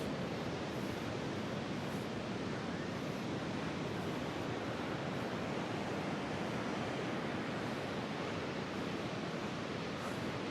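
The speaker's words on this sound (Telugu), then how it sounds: "ఈడ మాత్రం అలలు భయంకరంగా ఉన్నాయి." Rough sea waves pound a Goa beach in a continuous broadband roar, with wind buffeting the microphone and no voices.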